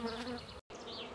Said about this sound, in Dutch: Er zitten goed veel bijen in.